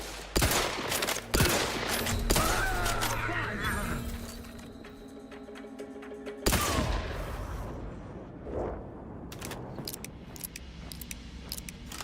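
Gunfire from combat in the video game The Outer Worlds 2, with sharp broadband bursts early and again midway, mixed with clinks, game effects and someone talking over the action.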